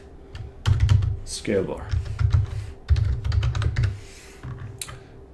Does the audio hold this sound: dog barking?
no